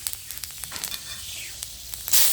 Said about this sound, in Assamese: এতিয়া কেৰাহীত তেল পকিছে, মই প্ৰথমতে পাঁচফোৰণ দিম